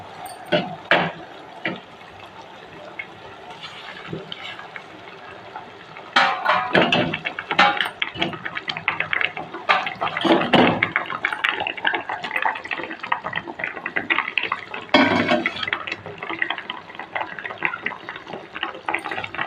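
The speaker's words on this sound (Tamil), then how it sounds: "வாங்க இப்போ நம்ம முட்டையை உடச்சி ஊற்றிக்கலாம்" Eggs cracked and poured into boiling gravy for Tamil egg thokku: scattered sharp cracks, taps and bursts of splashing liquid sizzle over a low simmering background, growing busier in the second half.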